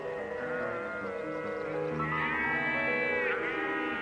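Sheep bleat in a pasture, with several wavering, nasal calls overlapping at moderate distance over a soft steady background.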